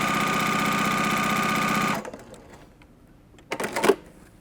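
A sewing machine stitches a missed dashed line on a quilt block, a fast even rattle for two seconds that stops, followed by a brief burst of clicking and handling.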